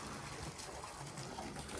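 Water gushes from a pipe just after a motor pump is switched on, a steady, loud rushing flow that stays dense and continuous throughout.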